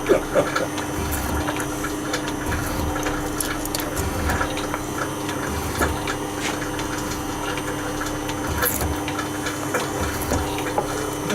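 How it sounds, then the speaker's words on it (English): Water runs down inside a tank in a shed, a busy mechanical setting. It comes as a continuous trickling wash mixed with ticking and low pump-like thumps, close and fairly loud, with no speech. "That sounds like water's come down that way."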